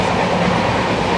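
The Venad Express, leaving Thiruvananthapuram Central, rolls along with a loud, close, steady rumble and broad rushing noise of carriages on the rails.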